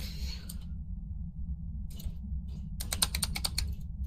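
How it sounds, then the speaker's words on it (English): Computer keyboard and mouse clicks during a Phasmophobia gaming session, scattered taps then a quick burst of several sharp clicks, close and crisp over a low steady hum, with no talking. "No, I'm clicking everything."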